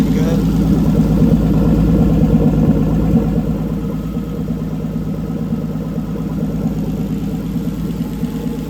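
A Toyota 2JZ engine fitted with an ECUMASTER harness idles smoothly on an engine stand, a loud, steady, close rumble. A slight surge near the start settles into an even drone.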